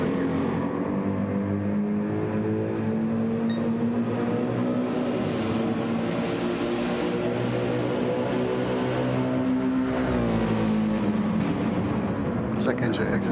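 Race car engines drone continuously in Gran Turismo 7 at the Nurburgring 24h circuit, a sustained near engine note rising and falling with shifts, with people talking over it.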